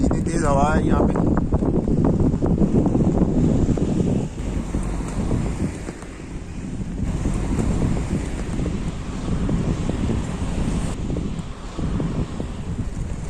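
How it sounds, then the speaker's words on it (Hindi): Strong wind blowing across Babusar Pass in Pakistan buffets the microphone with a loud, steady, rumbling roar that fills the whole stretch, with a voice heard briefly at the start. "इतनी तेज हवा है यहाँ पे।"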